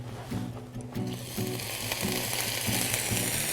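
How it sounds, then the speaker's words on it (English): Pork and chive dumplings sizzle in a frying pan as their water cooks off, a steady close crackling hiss running through the whole stretch with a low rhythmic hum beneath it. "You can hear that sizzle"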